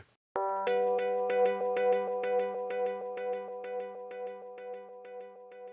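Delay effect on a short tonal synth note, set with high feedback around 75%, leaving an echo tail of evenly spaced repeats that gradually fade over several seconds, alone with no talk.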